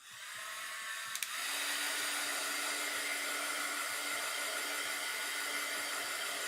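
Hair dryer blowing a steady, loud whoosh to dry wet paint on a Caran d'Ache museum watercolor artwork, switched on after a brief click and running continuously.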